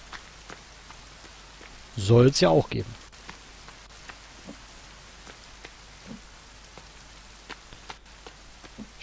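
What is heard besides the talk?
rain in the video game The Forest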